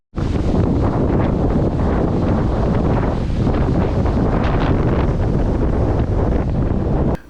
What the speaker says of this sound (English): what you guys were seeing right there was probably like 25 to 35 mile an hour wind gusts